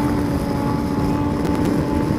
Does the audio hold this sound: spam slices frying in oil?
no